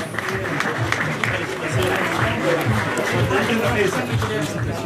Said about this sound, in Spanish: Fuerte aplauso para su familia.